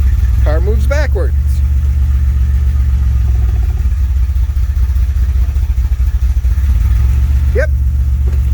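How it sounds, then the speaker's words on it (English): Engine of a 1981 DeLorean DMC-12 at operating temperature, running loud and close as the car reverses, with a steady low rumble and some clatter, and short bursts of speech at the start and near the end. "Car moves backwards."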